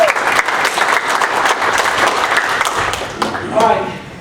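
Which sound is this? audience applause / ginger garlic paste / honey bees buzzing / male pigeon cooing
audience applause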